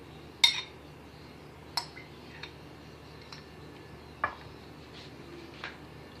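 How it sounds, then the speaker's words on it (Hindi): A bowl and dishes clink while chicken is added for a sheesh taouk kebab recipe: a handful of sharp, separate clinks spaced over several seconds, quiet and close, with no talking. "अब हम एक बाउल लेंगे, और उसमें हम ये चिकन डालेंगे।"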